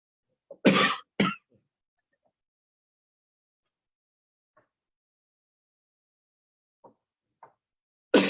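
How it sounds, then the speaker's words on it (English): A man coughs sharply twice, close to the microphone, followed by a long quiet stretch with faint small sounds, then another cough at the very end. "Rabbi, do you need some tea for your cough?"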